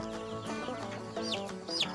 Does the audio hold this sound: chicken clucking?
yes